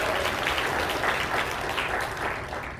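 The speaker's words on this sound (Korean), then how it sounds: "좀 큰 박수로 보내주시기 바랍니다." Steady, dense applause from an audience at a Korean appointment ceremony honoring a new youth headquarters chief, filling the whole moment at an even loudness and fading slightly near the end.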